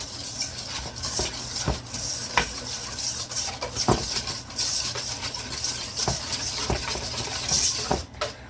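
A spoon stirs and scrapes pork chop mixture in a pan, with repeated sharp clinks and scrapes against a steady sizzling, frying hiss and no talking.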